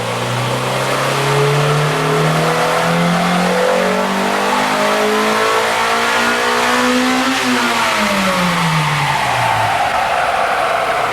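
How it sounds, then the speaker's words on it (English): Honda Civic Si engine revving hard on a chassis dyno, climbing steadily in pitch through the gears up to third, then a quick drop and fall-off as the throttle eases; loud, close and continuous without talk. "start running the car and bring it up to third gear"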